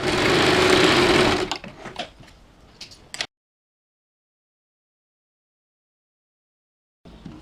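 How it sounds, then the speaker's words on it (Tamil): Sewing machine running a short stitch on a fabric sleeve, a loud whirring burst of about a second and a half followed by fainter clicks and handling noises, then silence. "இந்த கட்டையும் சரியாக வச்சு இங்கே சின்னதாக ஒரு தையல் போட்டுக்கோங்க."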